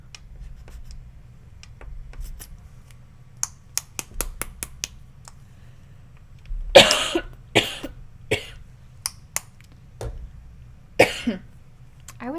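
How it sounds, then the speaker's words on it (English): A few sharp coughs from one person nearby, including a brief cluster, with quiet pauses between them and no talking. "I don't know why I'm coughing all of a sudden"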